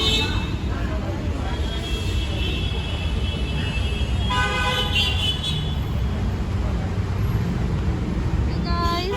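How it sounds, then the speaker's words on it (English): A school bus pulls up on a busy road under steady traffic rumble, with short horn toots partway through and people talking over the engine noise. "So that is Aaron's bus there. It is coming."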